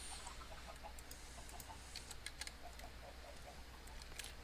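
Chickens in the Minecraft Feed the Beast modpack cluck softly and repeatedly over a steady low background hum, faint and a little distant, with no voices.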